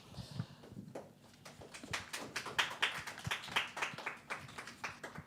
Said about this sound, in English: And thank you for clapping for each other.